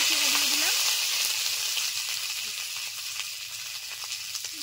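Green chillies frying in mustard oil with potatoes for a thin curry, a loud continuous close-up sizzle with crackling that eases off slightly over a few seconds.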